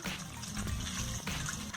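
Water being stirred by hand in a basin to make a marinade with sugar, salt, ginger and garlic for pork chops: a continuous soft sloshing and swirling, moderately close, with no talk.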